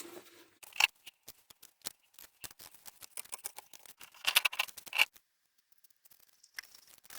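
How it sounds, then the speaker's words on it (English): Scissors cut through old denim jeans to size a junk journal back cover, a close series of crisp, crunching snips in irregular bursts with short pauses between. "I want to use this old jeans. I just have to cut it to size."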